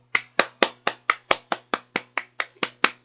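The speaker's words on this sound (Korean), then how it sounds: "자, 여러분 박수 보내주세요" About a dozen crisp hand claps ring out close by in an even, steady rhythm, each one sharp and separate against quiet, during a Korean talk on the economy.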